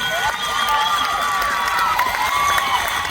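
A large crowd at an outdoor comedy show claps and cheers steadily, with loud continuous applause and scattered shouts and whistles from many people throughout.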